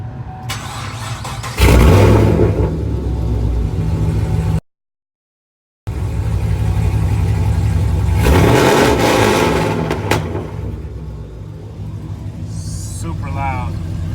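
A Chevrolet Camaro SS engine cranks and fires with a loud exhaust, then revs hard twice over a deep, steady idle rumble, heard up close.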